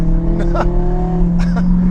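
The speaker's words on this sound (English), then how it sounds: "But if you're hearing a crazy exhaust sound," A Lamborghini Aventador's exhaust roars steadily at a distance, a low rumbling drone with a couple of brief rising revs over the top.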